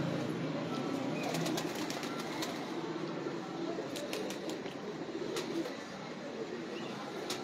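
Pigeons coo softly in a busy outdoor loft, with steady low cooing under a dense wash of background noise and scattered sharp clicks and wing flutters, moderately distant.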